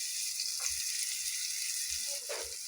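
Thinly sliced banana stem goes into a pan of potatoes and green chillies frying in oil, a steady close sizzle with a couple of soft stirring scrapes.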